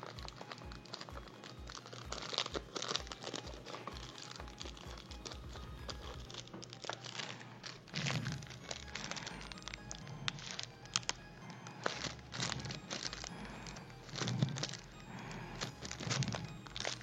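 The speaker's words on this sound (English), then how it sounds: "This plastic is hard to remove." Plastic packaging crinkles as it is pulled and cut away from a doll, making irregular close crackles and crunches that stay fairly quiet throughout, with no talking.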